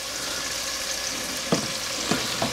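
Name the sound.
meat sautéing with ginger, onion and garlic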